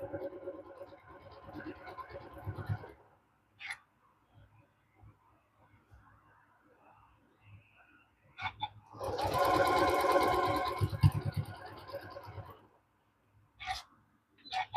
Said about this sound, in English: Now I will sew this one open, this seam open.